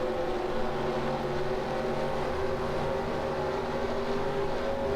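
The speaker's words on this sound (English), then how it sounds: "stock car engine sounds when you try to race IndyCar" A steady, droning stock car engine hum in the NASCAR Racing 2003 video game holds constant without letting up, dense and unchanging throughout, with no voices.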